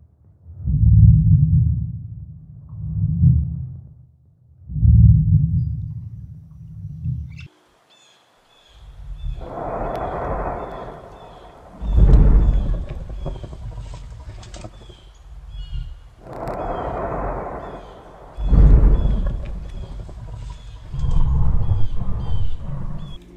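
Reconstructed low-frequency theropod dinosaur calls: deep rumbling booms in a few swells, then louder resonant, throaty bellows repeated in bursts, close and with no speech.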